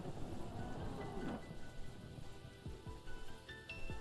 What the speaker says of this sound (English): the endless rain blocks his view